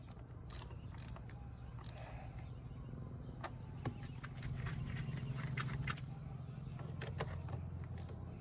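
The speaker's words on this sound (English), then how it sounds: "now I'm just going to tighten these three nuts until they're nice and snug" Nuts being tightened on a side mirror assembly of a 2003 Mitsubishi Lancer ES, close, quiet metallic clicks and ratcheting ticks at irregular intervals over a low steady hum.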